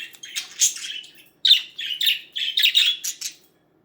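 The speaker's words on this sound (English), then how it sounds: "Did you hear a bird?" Pet budgies chirping and singing indoors, a lively run of bright, rapid tweets and squawky warbles in short bursts with a brief pause midway, close and clear with no talking.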